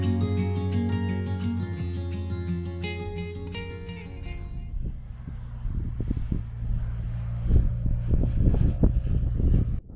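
Strong wind roars and buffets the microphone on a mountain top, gusting louder toward the end after a sustained tonal hum fades out in the first few seconds.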